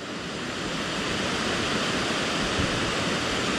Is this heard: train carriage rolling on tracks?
no